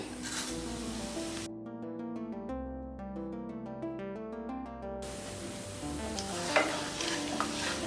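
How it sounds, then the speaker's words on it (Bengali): Cinnamon sticks, torn bay leaf and fennel seeds fry in hot oil with a steady sizzle. A stretch of music briefly cuts in over the middle before the sizzling returns alone. "মশলাটা ভাজা হচ্ছে, সুন্দর একটা স্মেল বের হচ্ছে।"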